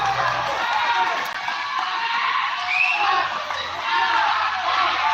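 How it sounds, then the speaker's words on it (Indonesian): A crowd of people shouts and yells continuously at a truck speeding through floodwater, over steady broadband noise, several voices overlapping throughout. "Masyarakat berteriak karena truknya terlalu kencang"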